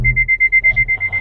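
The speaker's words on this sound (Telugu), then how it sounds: "మనం రైట్ టర్న్ కావాలంటే ఈ బజర్ సౌండ్ అనేది" An MG Hector's 360-degree parking camera buzzer chimes in a steady run of about ten evenly spaced, loud, close beeps during a right turn, with low cabin hum beneath.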